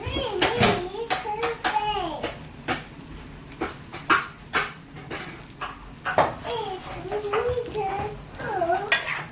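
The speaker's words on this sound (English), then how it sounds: "I'm just gonna mix everything, all the ingredients, let everything come together." Cooked spaghetti is tossed and mixed with other ingredients in a pan for a Dominican vegan dish, producing irregular scraping and stirring clatters close by, with a sizzle beneath and a voice talking intermittently.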